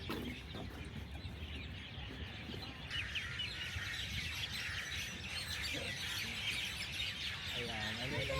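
Birds chirp and cluck on Al Noor Island in Sharjah, fairly faint over a constant outdoor hubbub, with a clearer run of calls near the end.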